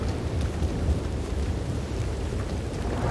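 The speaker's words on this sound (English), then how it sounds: "Now will the storm finally go away?" A thunderstorm rumbles in the video game Red Dead Redemption 2, a dense continuous roar of rain and wind with deep low rolling, steady and loud throughout, no talk.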